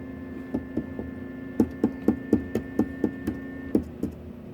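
A portable Salton ice maker with a fault runs its pump, producing a steady low hum under a regular series of about a dozen soft mechanical knocks that pulse roughly four times a second, close and moderately loud.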